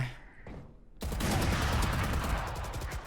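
Rapid gunfire erupts in VALORANT, starting abruptly about a third of the way in as a dense, loud burst of shots that stays sustained to the end, following a quieter stretch of faint game sounds.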